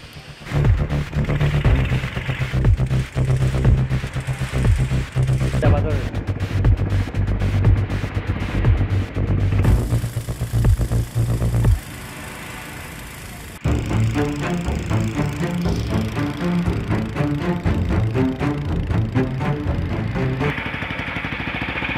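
Trawler boat engine running on a river near Lunglok waterfall, a steady rumbling drone that shifts in tone partway through, briefly drops to a quieter hum, then returns as a rhythmic, throbbing chug, close and continuous with no talk.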